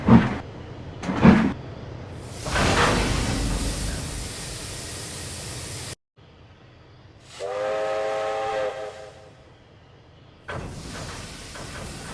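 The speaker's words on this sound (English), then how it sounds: "One day, Robert backed up to an express train" A train rumbles along the rails, with a whistle blast midway and a few sharp clanks, broken by abrupt cuts between segments.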